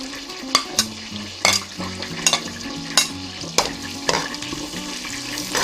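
Garlic fries in melted butter in a pan for sisig, a close continuous sizzle broken by repeated scraping clatters of a spatula stirring every half second or so.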